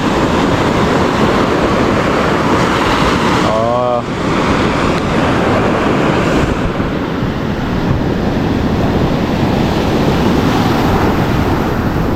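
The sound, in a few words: strong ocean waves crashing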